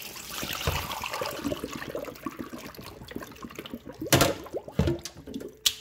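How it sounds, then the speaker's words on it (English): Leftover cooking liquid from crockpot chicken and rice is poured down a kitchen sink, an irregular splashing gush with a few clunks of the pot near the end. "we're gonna take this to the sink and pour this mess out"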